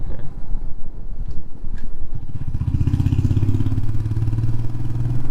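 Motorcycle ridden on a hairpin hill road at Sirumalai near Dindigul, a steady close engine drone with wind rumble that swells into a stronger, lower throb as it pulls through the bend.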